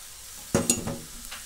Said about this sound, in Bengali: এভাবে এটা দিয়ে আমি 2 মিনিট নাড়াবো।